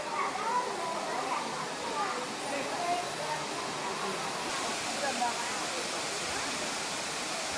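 The waterfall at the Cascade in Jiufen, Taiwan, gives a steady rushing roar that fills the scene, with a voice briefly heard over the water.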